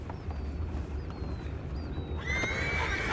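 A horse in Red Dead Redemption 2 lets out a couple of high, falling whinnies over a steady low background rumble, fairly clear and close, with no talk.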